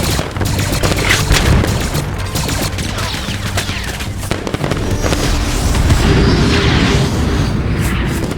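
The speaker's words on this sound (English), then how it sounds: "that was a Y-Wing dropping ion bombs on the good Lord only knows what" Ion bombs dropped by a Y-Wing in the Star Wars game Galactic Contention, heard as a loud, continuous barrage of crackling bursts and booming blasts layered over ongoing battle gunfire.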